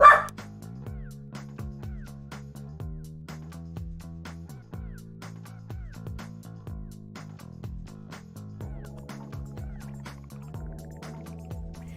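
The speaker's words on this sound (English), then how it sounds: "Puppy crybaby. A puppy crybaby." A puppy whines and cries in a steady string of high, drawn-out whimpers that slide downward in pitch. The whimpers are close and fairly quiet against an otherwise still room.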